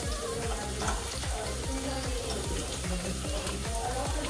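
Onions sizzling in a pan with garlic and green chilies, a loud continuous close fry with faint stirring scrapes throughout.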